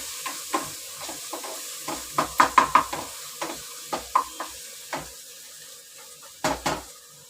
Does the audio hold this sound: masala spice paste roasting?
yes